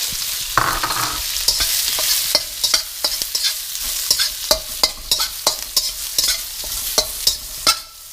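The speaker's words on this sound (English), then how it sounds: "so then you chuck in the tofu. You chuck in the dried shallots." Tofu and dried shallots fry in hot oil in a pan for Pad Thai, a steady loud sizzle punctuated by regular scraping knocks of a utensil stirring, with no voices.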